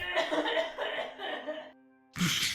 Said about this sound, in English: Have you tried coughing really hard? Sometimes it helps.